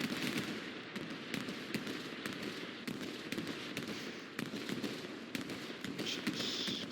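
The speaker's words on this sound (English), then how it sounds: "MSU bombing run comes in." Bombing run in a competitive video game match, a dense rapid string of explosive bursts and cracks over a constant rumble, fairly loud and without speech.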